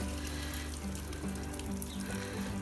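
Water from a quick watering trickling and splashing down through stacked fodder growing trays, a faint steady running sound with soft drips, no talk.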